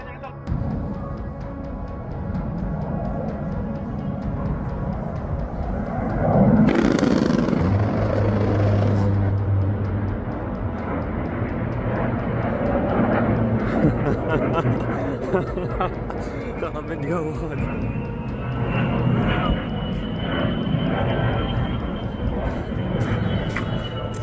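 An A-10 Warthog attack jet flying over a war zone, a steady loud engine roar with a rising whine and a louder swell partway through, under continuous narration.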